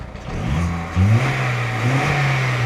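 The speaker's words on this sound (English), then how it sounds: "It's revving all right, but it sounds a little bit lumpy." A VW Polo engine, bought cheap and running rough, revs in short bursts, a loud close mid-pitched drone that rises, dips and rises again with a lumpy, uneven tone and no talk over it.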